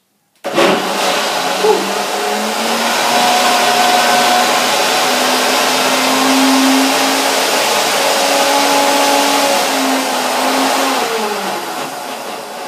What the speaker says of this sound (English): it already is it not so easy for the blender to get it all together in one mass, in one filling